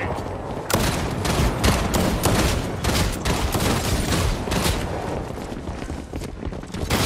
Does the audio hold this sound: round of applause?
no